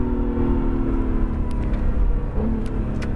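Acura NSX on a racetrack under throttle, a loud close steady engine drone with a rising whine and rumbling road noise, continuous with no talk.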